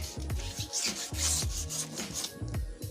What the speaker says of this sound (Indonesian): setelah itu kita amplas menggunakan amplas kasar dulu